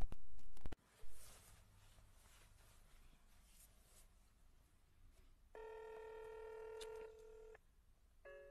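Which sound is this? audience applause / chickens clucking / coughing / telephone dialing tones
telephone dialing tones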